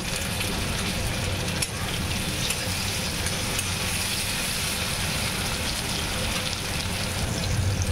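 Onion, chopped tomato and green chilli frying in a pan for a fish curry, a dense, loud, unbroken sizzle that hisses like steady rain, no talking.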